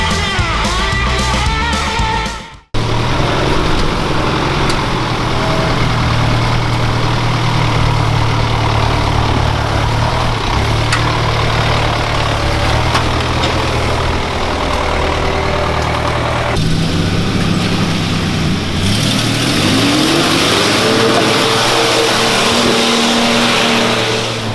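A dual cab truck drives through the bush, its engine loud and continuous, with rising and falling pitch as it accelerates and shifts, after a brief cut near the start.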